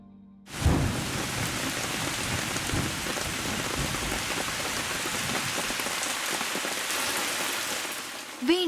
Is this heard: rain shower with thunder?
yes